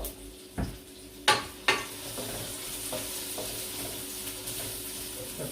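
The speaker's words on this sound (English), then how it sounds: "Fry up our onion for a couple minutes." Onion fries in oil with a little added salt, a steady sizzle punctuated by a few sharp utensil clinks and stirring scrapes against the pan, heard up close without speech.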